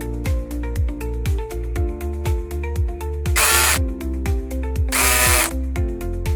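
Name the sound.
power tool securing mounting bolts on mini tractor seat bracket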